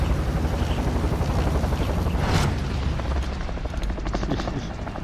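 Steady, loud aircraft engine roar in Call of Duty: Modern Warfare's battle royale mode, a continuous droning rumble that holds for the whole stretch, with a brief whooshing swell midway.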